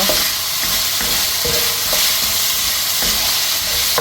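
Food sizzles and fries in a pan with a steady hiss, with garlic and potatoes going in, while a utensil stirs with occasional scraping knocks.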